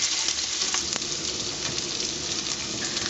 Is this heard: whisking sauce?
yes